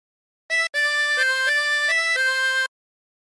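Incy Wincy Spider melody played on a harmonica, a clean run of about eight sustained single notes after a short first note, clear and close with no talking.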